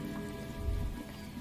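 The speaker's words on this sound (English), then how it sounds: "Oh, it's starting to rain." Rain falling in the video game Disco Elysium: a soft, steady hiss of rainfall with low rumbling underneath, continuous and fairly faint, no voices.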